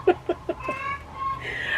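Backyard chickens cluck in a few quick, clear bursts near the start, followed by softer, higher calls from the flock.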